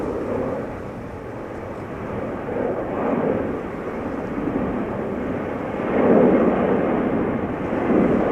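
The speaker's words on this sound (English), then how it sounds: "Finnair A350 is on the move," A Finnair Airbus A350 jet moves at Schiphol airport, giving a steady, moderate rumbling drone that rises and falls in gentle surges, heard alone without talk.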